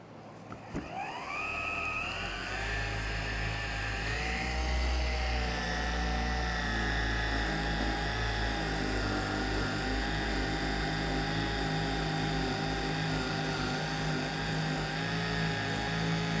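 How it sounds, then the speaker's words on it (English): A battery-operated palm sander fitted with a polishing pad runs on the paint of an auction Range Rover, spinning up and then holding a loud, steady whine close by throughout, with no talking. "I have them on a battery operated sort of palm sander here"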